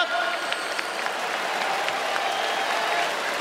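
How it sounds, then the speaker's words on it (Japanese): Hawks baseball fans roar and applaud in a domed stadium after a win, a steady, loud wash of crowd cheering and clapping filling the whole stretch without a break. "どうですかこのホークスファンの大歓声"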